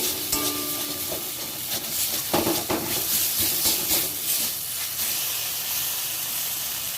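Masala and tomatoes fry in a pan while being stirred, a continuous sizzle and hiss with scraping strokes rising and falling, close and moderately loud.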